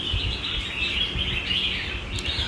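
A caged red-whiskered bulbul sings a continuous high, bright warble over a steady noisy background, fairly loud and close, with no talking.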